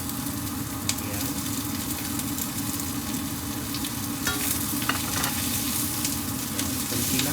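Chicken frying in a pan with softened onion and browned garlic, a steady dense sizzle running unbroken throughout with a few brief clinks of stirring, close and fairly loud, no voices.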